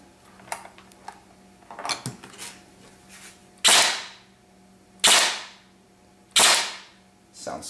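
A Lonex Titan A2 airsoft gun with a ported M150 spring, short-stroked, fires three loud sharp cracks at even intervals, each with a ringing decay, after a stretch of softer clicks and handling noise.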